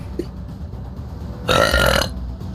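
One loud, close burp of about half a second stands alone against quiet background noise.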